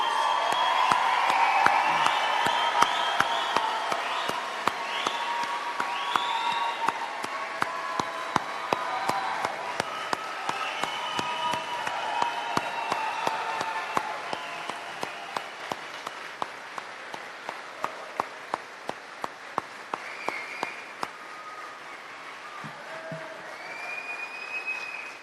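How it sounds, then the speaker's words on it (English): An audience applauds at a high school graduation ceremony, with sustained clapping from a large crowd and occasional whoops. The applause slowly thins out and fades near the end. "One more time, a big round of applause for this wonderful class."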